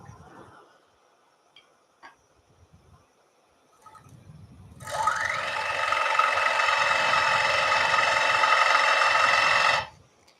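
A wood lathe tool cuts into a spinning wooden bowl while a textured pattern is formed, a loud steady scraping whir that starts abruptly midway, holds for about five seconds, then stops, with faint handling noises before it.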